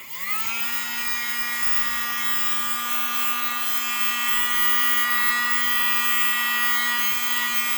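A small USB mini desk vacuum runs steadily, its motor giving a constant, high buzzing whine that starts up quickly and holds level throughout, with no talking.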